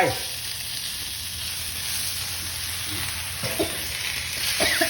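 Tofu sizzles and fries steadily in a hot pan while being stirred for Thai stir-fried basil, with a constant bright hiss and a few soft scraping knocks from the utensil.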